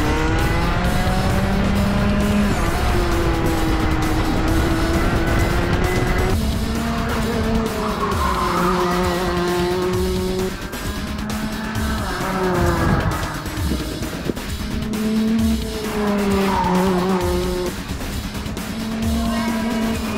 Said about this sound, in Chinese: 老板请到了专业赛车手，开着专业的卡丁车，等一下要为我们秀一下。